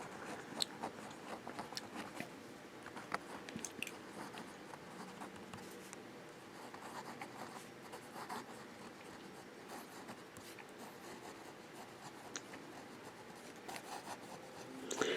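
A Sheaffer Student fountain pen with a smooth, wet nib is written upside down on paper with light pressure, giving a faint, steady scratchy rasp that continues in short strokes throughout.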